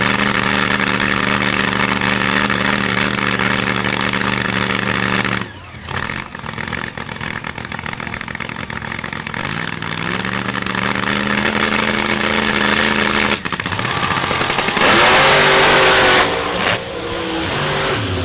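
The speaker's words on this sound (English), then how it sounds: "Pair of 2000 model black S10s on the starting line." Two black 2000 Chevy S10 pickups sit at a drag strip starting line, engines loud and close with a rough idle and rising revs, breaking into sharper surges of throttle near the end.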